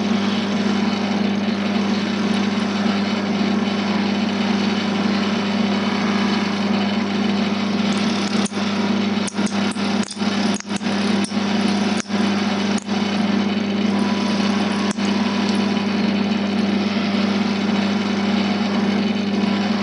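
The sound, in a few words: wood lathe turning a pen blank, fine cuts with bevel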